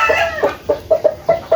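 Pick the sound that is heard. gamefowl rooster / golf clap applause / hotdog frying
gamefowl rooster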